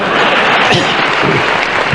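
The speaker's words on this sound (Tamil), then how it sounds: "இதுக்கு போய் கை தட்டுறாங்களே" Loud, continuous applause from an audience at a Tamil public speech, a dense close wash of clapping hands holding steady for a couple of seconds.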